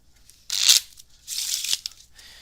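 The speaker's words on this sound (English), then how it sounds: "what we're going to do is shuffle the rest of these cards back" Playing cards being shuffled by hand during a magic trick, heard as two brisk riffling bursts, close and crisp, with a short pause between them.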